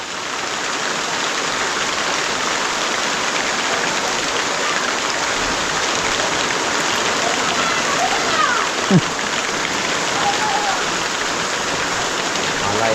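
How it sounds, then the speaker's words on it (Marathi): Steady heavy rain hisses evenly across the whole stretch in a Konkan village, with a faint voice briefly surfacing partway through. "जोरदार येणार आहे आला पाऊस"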